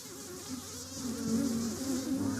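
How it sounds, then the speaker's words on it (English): Honey bees buzz around an open beehive, a close, continuous droning hum that swells slightly louder midway and keeps going without pause. "the bees are all over you now"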